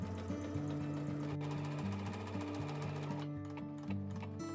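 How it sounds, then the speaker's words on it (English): A sewing machine stitches the side and bottom seams of a tote bag, running steadily and loudly up close with a rapid mechanical hum and brief pitch shifts as the speed changes. "Sew along the sides and bottom using a 3/8 inch or 1 centimeter seam allowance."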